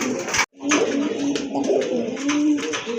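A pair of blue satinette pigeons coos up close, low throaty rolling calls repeating in a steady rhythm, loud and clear with a brief gap near the start.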